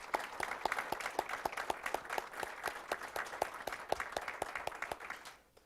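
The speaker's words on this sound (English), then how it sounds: "So if we could give a round of applause for our colleague." Audience at a school board meeting gives a round of applause, a modest group clapping in a fairly regular rhythm that is distinct but not overwhelming, fading out at the end.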